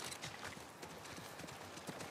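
Horse hooves gallop in The Last of Us Part I, with a rapid, steady clip-clop rhythm running throughout at moderate loudness with no voices.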